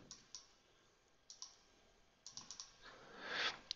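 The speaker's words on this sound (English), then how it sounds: "I'll right click, delete this point" Computer mouse and keyboard clicks during structural design software work, faint sharp ticks spaced irregularly, a few in quick succession, with a soft rustle near the end.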